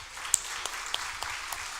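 A church congregation applauds during a worship service led by a pastor, a steady broadband wash of clapping with scattered sharper individual claps, moderately distant and fairly quiet, with no voices.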